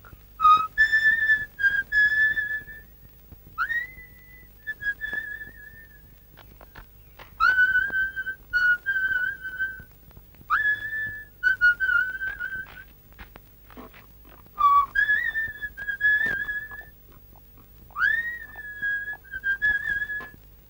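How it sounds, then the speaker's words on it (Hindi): A man whistling a tune alone in a Hindi film scene, clear, close, melodic phrases with sliding notes, repeated in bursts separated by short pauses. "सीटी तो तुम बहुत अच्छी बजाते हो।"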